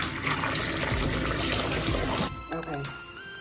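Water gushes steadily from a bathtub tap while hair is rinsed, loud and close, then cuts off abruptly, leaving faint drips and quiet room sound.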